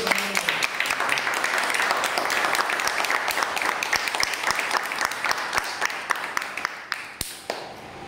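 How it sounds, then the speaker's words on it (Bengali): A group at a ceremony bursts into loud, dense applause for an honoured teacher, with sharp close claps filling the room and thinning out toward the end. "আমরা সবাই মিলে স্যারকে একটু জোরে করতালির মাধ্যমে"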